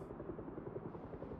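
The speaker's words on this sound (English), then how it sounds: "That is the helicopter." A helicopter flies nearby in a cryogenic winter survival game, its rotor throbbing as a steady, dense low chop that stays loud and constant, with no voices over it.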